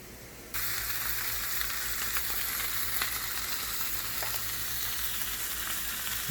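Mutton and pork burgers sizzle and crackle steadily in a hot pan, close and continuous, with a constant fry hiss that jumps louder shortly after it begins.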